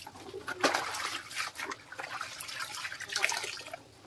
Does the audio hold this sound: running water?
yes